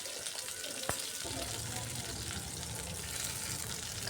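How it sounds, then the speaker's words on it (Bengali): Cauliflower pieces sizzle and crackle steadily as they are stirred while frying in a pan for a dry potato-cauliflower dish, a continuous close frying hiss with a single sharp knock of the utensil near the start. "এভাবে সব ফুলকপিগুলো আমি দিয়ে ভালো করে নাড়াচাড়া করে নিচ্ছি"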